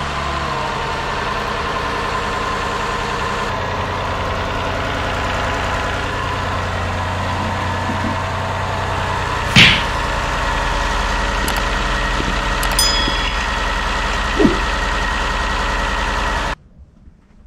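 A 2011 Ford Escape 3.0 V6 idles steadily after a water pump replacement, a constant close engine hum with faint ticking, a few brief clicks and knocks, then it cuts off near the end.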